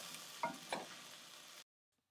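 Rajas stirred into a pot on the stove, a soft, steady scrape and sizzle with two brief louder knocks of the spoon, running about a second and a half before stopping abruptly.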